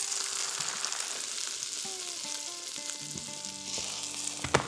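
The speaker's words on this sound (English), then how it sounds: "we can add a bit more butter to the skillet and give the sandwich another sear on both sides." A sandwich searing in butter in a hot skillet, a steady close sizzle and crackle of frying that runs the whole time, with a few faint tonal chimes in the background and a brief knock near the end.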